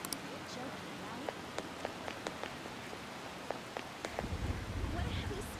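Heavy rainstorm in the Persona 5 Royal video game hisses steadily, with scattered sharp drip clicks and a low rumbling swell near the end; faint voices may sit beneath it.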